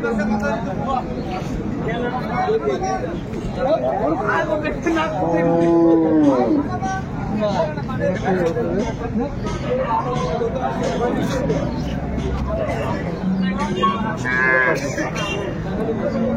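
Cows moo several times, one long low call standing out, amid steady crowd chatter and bustle of a busy cattle market for dairy cows and calves in Ambari, Dinajpur.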